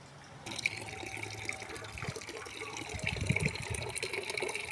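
Water pours and splashes into a bucket of cow dung being mixed as a garden fertilizer, a steady close liquid gush and trickle with churning splashes building toward the end, no talking.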